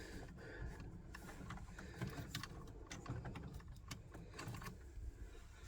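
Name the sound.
Ecowater water softener valve moving through positions after reset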